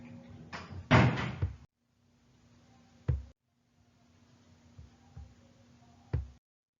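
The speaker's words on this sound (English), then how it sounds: "Can you close the door" An interior door is swung shut in a room, giving a loud thud and rattle near the start, then two sharp latch-like clicks spaced a couple of seconds apart over quiet room tone.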